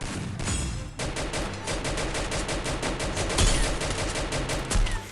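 Rapid gunfire in a multiplayer shooter video game: dense, overlapping bursts of automatic shots that go on almost without a break, loud and close throughout.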